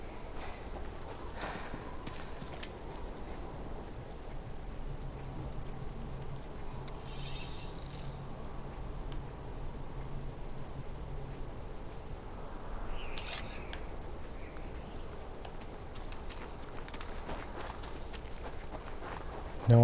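Horse hooves clip-clop at a steady walking pace in The Last of Us, a moderate rhythmic patter over low game ambience with faint bird calls.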